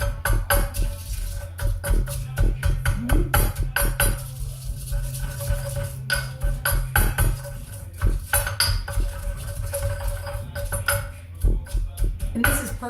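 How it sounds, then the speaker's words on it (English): A mortar and pestle grind and stir coarse salt into a mash for baba ganoush, giving close, irregular clacks and scrapes of pestle on bowl in quick, uneven bursts. "the coarse salt, along with the mortar and pestle, just makes it into a nice mash"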